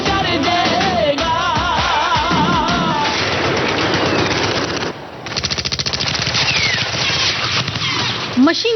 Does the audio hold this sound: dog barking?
no